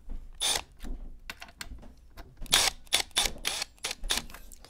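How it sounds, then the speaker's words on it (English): Phillips screws being loosened on a plate of an Elite Direto XR bike trainer: repeated close, sharp metallic clicks and scraping turns in short irregular bursts, with no talking. "Just gonna loosen the screws. 3 Phillips screws, one more at the bottom here."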